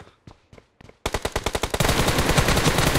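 Gunfire in PUBG Mobile: a few spaced, distant shots, then loud rapid bursts close by that merge into sustained automatic fire.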